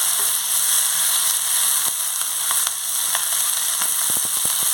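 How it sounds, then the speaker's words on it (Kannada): Brined raw jackfruit frying in a little oil for a Mangalorean palya, giving a steady, close sizzle with scattered small pops and crackles over the last second, and no talking. "ಸ್ವಲ್ಪ ಎಣ್ಣೆಯಲ್ಲಿ ಫ್ರೈ ಮಾಡ್ಕೊಳ್ತೇನೆ"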